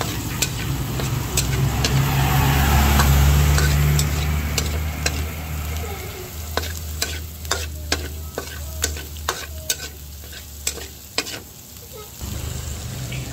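Garlic and onion sautéing in a pan, a steady loud sizzle swelling in the first seconds and then settling, with sharp utensil scrapes and taps recurring through the later half.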